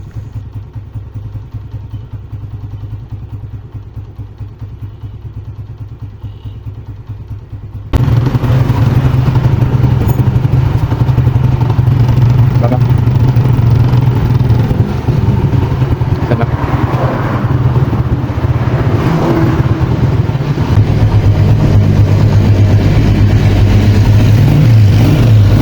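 A Honda CG 125 motorcycle engine idles steadily and close while its carburetor is adjusted, first muffled and quieter, then suddenly louder and clearer with a rough, even running tone.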